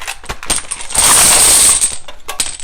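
Domino's pizza dominoes are pushed into a bag, making a loud, close clatter of hard tiles rattling and clicking together in short bursts, with a sustained jangling rush in the middle.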